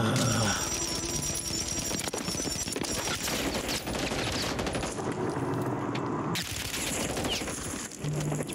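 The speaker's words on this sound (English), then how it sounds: "Person's shooting me every angle, man." Rapid automatic gunfire rattles almost nonstop in a Warzone 3 match, dense sustained bursts of shots and impacts filling the scene at close range.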